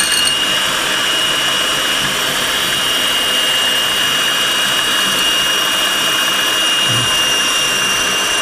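An electric beater runs at higher speed whipping coffee into a frothy batter for cappuccino, giving a continuous, even, high-pitched whirring drone close up with no pauses.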